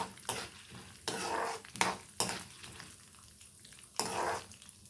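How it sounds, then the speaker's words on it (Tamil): Ingredients roast in a pan on a low flame, with a soft background sizzle and about five distinct scraping, clattering stirring strokes at uneven intervals, fairly faint and with no speech. "லைட் ப்ரௌன் ஆகிற வரைக்கும் ஒரு 30 செகண்ட்ஸ்லேருந்து 1 மினிட் வரைக்கும் வறுத்துக்கலாம் லோ ஃப்ளேமில்."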